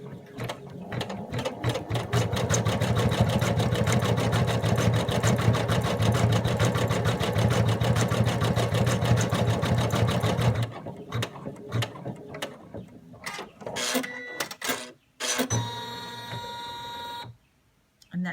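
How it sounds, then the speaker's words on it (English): An embroidery machine stitches a small pink nose onto a mouse design held in a hoop, giving a loud, steady, rapid mechanical whir for about ten seconds, then stopping and restarting in short bursts with clicks between them. "put your hoop back onto your embroidery machine ready for your next step"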